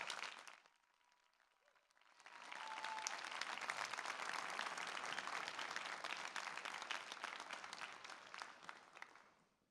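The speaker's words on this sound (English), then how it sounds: "I'd like to ask the class for a huge round of applause for the audience" Graduation ceremony audience at a Wharton MBA for Executives commencement in Philadelphia bursts into sustained, broad applause after a quiet moment, a dense roar of many hands clapping that fills the hall and continues steadily to the end.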